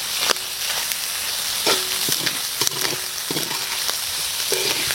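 Beef offal sautés loudly in a hot pan, a steady close sizzle broken by repeated scraping and clinking of a utensil stirring against the metal.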